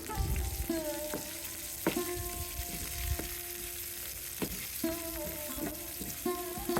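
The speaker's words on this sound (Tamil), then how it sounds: "ஆனியன்ஸ் கூடவே நான் ஒரு மூணு பல் பூண்டு அதுக்கப்புறமா வந்து கருவேப்பிலை சேர்த்துக்கிறேன் இதெல்லாமே நல்லா ஃப்ரை பண்ணிக்கலாம்" Onions, garlic and curry leaves fry in sesame oil for a fish curry, a steady close sizzle broken by repeated clanks and scrapes of a spoon stirring the pan, with no talking.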